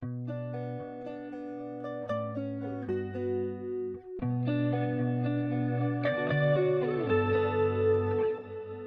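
Electric guitar chords drenched in effects, with chorus shimmer, echo and heavy reverb, played steadily and loud throughout with no voices.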